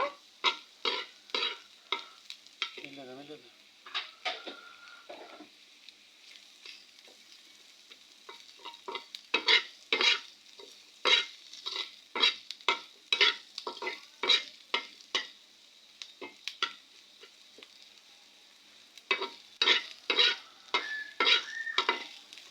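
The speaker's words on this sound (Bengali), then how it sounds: "এখন ভেজে একটু ঝোল দিব" Curry with turmeric frying in a pan while being stirred briskly, a long run of quick rhythmic scraping strokes over a light sizzle, with a short pause near the start and a brief whistling tone.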